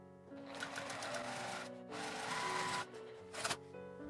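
A sewing machine runs steadily, stitching a seam through quilted fabric for an insulated zippered lunch bag, with a steady motor whir broken by a short pause and a brief burst of faster stitching near the end.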